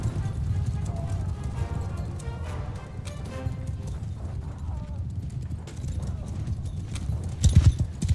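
Horse hooves clip-clopping in the medieval combat game Mount & Blade II Bannerlord, a continuous galloping patter under steady battle noise, with a person talking over it and a louder thump near the end.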